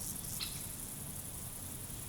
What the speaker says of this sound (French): En tendant l'oreille, on pourrait entendre les stridulations des grillons et criquets, comme celui-ci, appelé Chrysocraon disprar.